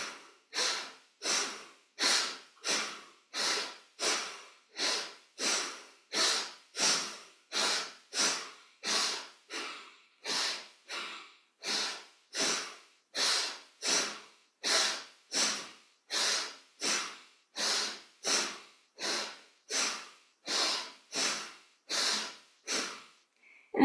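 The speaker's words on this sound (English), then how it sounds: "If you feel dizzy at any time, please make sure to stop and just catch your breath and do gentle breathing" Rhythmic pranayama breathing practice: a long steady series of about thirty forceful nasal breaths, each a short sharp whoosh spaced evenly about a second apart, close and clear with no talking.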